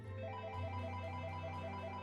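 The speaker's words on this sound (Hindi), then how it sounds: "उसके फ़ोन पर हितेश की कॉल आ रही थी।" A mobile phone rings for an incoming call with a faint, repeating electronic ringtone melody, a soft tone pattern cycling steadily over a low hum.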